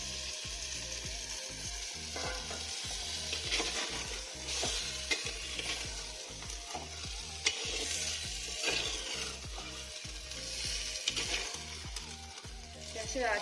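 Marinated chicken fries in a spice masala in a pan, a continuous dense sizzle with regular scraping strokes of a stirring spoon, steady and close, with no talking.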